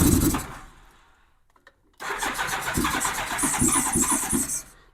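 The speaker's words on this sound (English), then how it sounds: "1987 Honda GL1200 Goldwing. At least my first start. So I'll turn the key on." A 1987 Honda GL1200 Goldwing motorcycle engine cranks briefly and goes quiet. After a pause it catches and settles into a steady, close idle with a rhythmic pulse.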